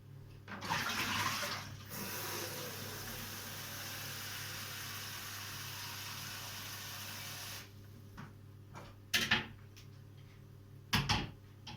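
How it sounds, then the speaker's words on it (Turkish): Water pours steadily into a pot of milk-and-fig dessert for several seconds, a continuous hiss that cuts off, followed by a few brief clatters of utensils. "Ben buna bir su, su daha koyayım da soğusun"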